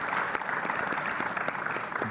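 Audience applause for panelists at a plenary conference session on policy, a dense and even patter of many hands clapping at moderate volume, heard slightly distant throughout.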